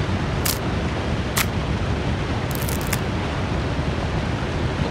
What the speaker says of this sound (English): Why does it sound like a fucking waterfall?